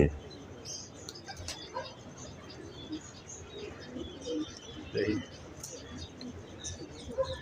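Pigeons in a loft coo softly amid scattered wing flutters and chirps, while people talk nearby over the birds.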